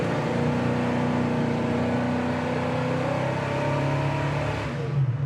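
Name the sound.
1970 Chevrolet Chevelle SS accelerating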